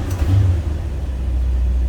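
An older GMC motorhome engine with a vacuum advance choke rumbles low and steady after a throttle blip, a deep continuous idle that stays loud and close without any talking.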